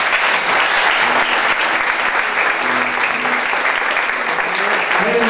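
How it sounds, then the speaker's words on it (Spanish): Strong applause fills a cultural centre in honour of a teacher, a dense, steady clatter of many clapping hands sustained for the whole stretch, loud and close, without speech over it. "Así que pido un fuerte aplauso para Eduardo."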